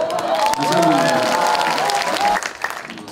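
Audience applause at a political lecture in Gwangju, a dense burst of clapping with voices and cheering mixed in and a sustained tonal shout over it, tapering off near the end.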